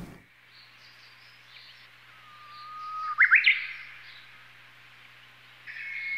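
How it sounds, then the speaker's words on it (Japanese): A Japanese bush warbler sings a single clear song: a long low whistle rising into a quick bright flourish, faint and somewhat distant against a quiet background. "うぐいすの声が"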